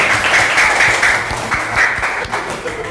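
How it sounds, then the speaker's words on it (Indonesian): Students in a grade six Islamic studies classroom clap as a group heads to the front to present, a steady, dense patter of hands lasting the whole stretch. "Nah, tepuk tangan semuanya."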